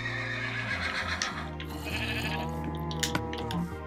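Sheep in the Minecraft video game on PS4, a few bleats over a busy layered game background of tones and effects.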